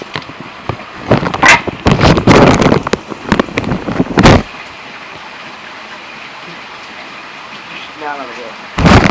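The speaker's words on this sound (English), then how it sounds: "This is heavy rain right now" Heavy rain during a thunderstorm in Vancouver, Washington, pouring loud and close in dense bursts for the first few seconds, then easing to a steady patter before a final loud burst; a voice is briefly heard.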